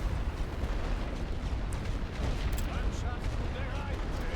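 Artillery barrage explosions rumble in The Great War: Western Front, a dense, continuous low roar of blasts with crackling bursts on top, loud and unbroken throughout.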